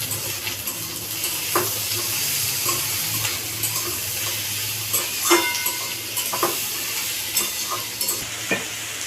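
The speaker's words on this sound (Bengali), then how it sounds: "এবার আমি আলু আর পেঁয়াজ একসঙ্গে ভাজবো।" Potatoes and onions fry together in a pan, giving a soft, continuous sizzle with scattered clicks and scrapes of stirring. The sound is near and fairly quiet, with no voices.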